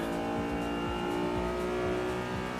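Race car engine in Assetto Corsa EVO powering down the straight under the BMW gantry, a loud continuous howl with rapid upshifts heard as repeated rev drops, no talking.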